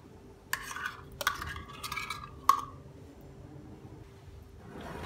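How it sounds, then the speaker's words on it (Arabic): Cream stirred into a cold Oreo dessert mixture in a bowl: a few separate clinks and scrapes of the utensil against the dish, close and fairly quiet, with soft rustling between them. "بحركن مع بعض اكيد."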